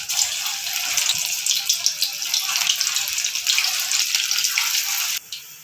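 Rice and potato snack balls, bonda-style, dropped into hot oil in a kadai, giving a steady bright sizzle and bubbling that holds for several seconds and then drops off abruptly near the end.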